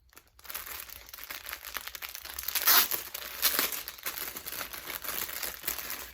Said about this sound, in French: je vais ouvrir ce gros paquet là